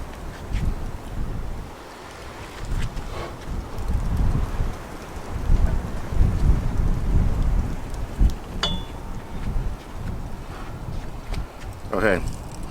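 Strong gusty wind buffets the microphone outdoors beside an Oklahoma Joe's Bronco drum smoker cooking baby back ribs, a loud rolling rumble that swells and eases, with a few brief clanks.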